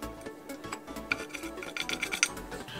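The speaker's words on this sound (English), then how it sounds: "So I can just use a chisel tool and," A chisel tool scrapes stuck bits of glaze off a ceramic kiln shelf, giving close, gritty rasping strokes with small sharp clicks as flakes chip away, fairly quiet and with no talk.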